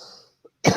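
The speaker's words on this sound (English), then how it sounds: "sorry for coughing into the mic" A single sharp cough hits close into a microphone, loud and abrupt after a brief silence, following a faint trailing sound.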